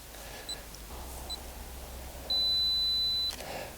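A camera on a two-second self-timer during a coastal landscape shoot with wild flowers in the foreground. A few faint early beeps lead into a steady, louder tone lasting about a second. The tone ends with the quick click of the shutter, over faint outdoor background noise.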